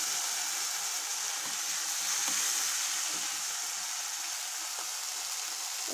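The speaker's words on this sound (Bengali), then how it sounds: "এখন দিয়ে দিচ্ছি আদা রসুনের পেস্ট।" Ginger-garlic paste hits hot mustard oil over already-fried onions and green chillies for a leafy-greens dish, giving a steady, loud, continuous sizzle with fine crackling throughout and no talk.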